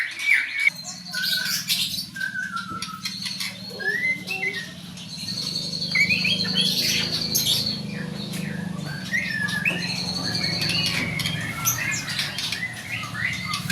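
Hungry pet songbirds in cages chirping and squawking close by, a busy stream of overlapping tweets and calls over a low steady hum.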